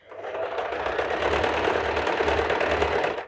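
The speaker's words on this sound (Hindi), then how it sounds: "अब इस सिलाई को हम पूरा कर देंगे" A sewing machine runs steadily and loudly while stitching a long party-wear gown, a continuous motor hum with rapid needle rhythm lasting the whole stretch, with no voices.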